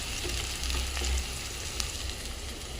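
Finely chopped onions fry in oil for an egg curry, giving a steady, close sizzle that crackles evenly throughout with no voices.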